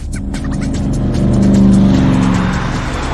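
A red sports car drives in the 2001 Transformers Robots in Disguise cartoon, its engine roaring loud and close with a rising rev and tire noise, building and then easing, and no voices.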